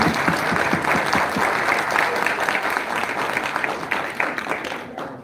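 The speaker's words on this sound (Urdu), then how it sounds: "تو چاہوں گی بھرپور تالیوں میں آپ ان کا استقبال کریں" Steady, enthusiastic applause from a large audience welcoming a speaker at a religious address, clapping densely and gradually easing off toward the end.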